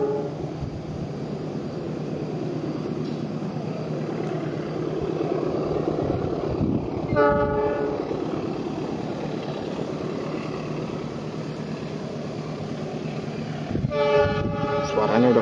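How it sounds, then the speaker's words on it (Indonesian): A coal freight train rumbles steadily past with a constant heavy roar, and a horn blares twice in short harmonic blasts partway through and near the end. "Persiapan kereta api Batubara melintas."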